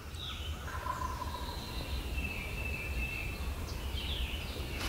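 A wild turkey gobbles on the ground somewhere behind a hunter on a hardwood ridge top at sunrise, faint and distant calls rising over quiet woodland ambience with other birds, no talking.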